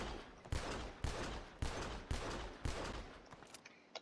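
Repeated gunfire from a double-action pistol in GTA V, six sharp shots at a steady half-second rhythm, loud and close with short reverberant tails, no talking.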